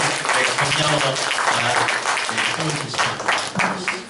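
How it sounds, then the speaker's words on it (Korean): Audience applause fills a church lecture hall for a visiting missionary, with steady, dense clapping sustained at full strength throughout. "선교사님께 또 박수로"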